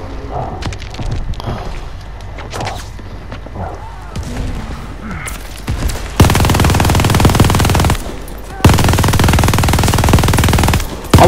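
Automatic gunfire in the Vanguard campaign, a World War II shooter, bursts out loud in two long sustained volleys after scattered shots and muffled game sounds.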